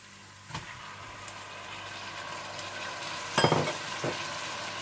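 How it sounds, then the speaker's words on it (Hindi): Chopped tomatoes drop into frying ginger and garlic in a pan for aloo gobi masala. Steady oil sizzle runs throughout, with a loud burst of splattering and stirring partway through and a smaller sizzle soon after. "अदरक लहसुन थोड़ा सा भूनने के बाद आप इसमें डाल दें टमाटर"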